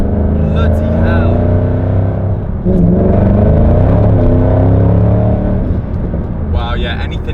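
A Shelby GT500 with a 5.4-litre V8 accelerates hard, its engine note climbing steadily in pitch as it pulls through the gears, loud and close inside the car, with people talking over the roar.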